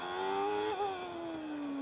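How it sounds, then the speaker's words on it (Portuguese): Benetton Formula 1 car engine heard from an onboard camera during the British Grand Prix, a high, steady screaming drone that dips briefly as the car shifts gear, then continues with slowly falling pitch. "Vai curtindo o som do motor da Benetton."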